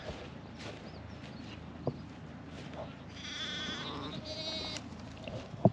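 Sheep bleat in a lambing field with a ginger ewe about to lamb; a drawn-out bleat rises midway, with fainter calls, soft rustles and a sharp knock near the end.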